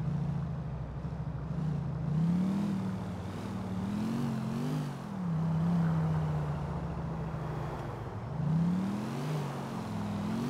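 Car engine in GTA IV hums steadily while cruising through city streets, rising and falling in pitch with gear changes and throttle, fairly close and continuous throughout.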